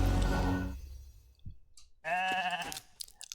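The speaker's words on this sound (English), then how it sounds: "he can sheep my Pythion" In the Raid: Shadow Legends game, a polymorph effect plays a loud synthetic sheep bleat: a brief thump followed by one drawn-out wavering baa, with no talk over it.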